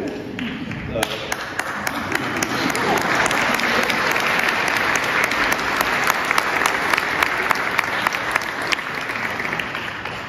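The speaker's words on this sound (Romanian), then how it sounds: "aplaudăm." Audience applause after an Easter concert by a chapel choir: dense, steady clapping from a full crowd that swells after the first second and keeps going evenly for about ten seconds, close and loud, with no talking.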